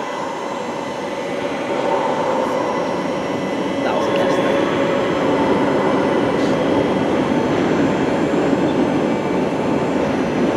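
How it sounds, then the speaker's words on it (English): Passenger train rolling through Brighton station, a loud continuous rumble and rail clatter that builds slightly and holds steady, with a voice talking over it. "See how never-ending this train is."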